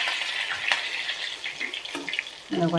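Green chillies and curry leaves frying in hot oil with mustard seeds give a continuous close sizzle with a few crackles and spoon scrapes, ending in a brief clatter.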